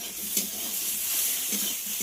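Turmeric powder being stirred into sautéing masala in a frying pan, a steady soft sizzle with a couple of faint scraping strokes, close and quiet.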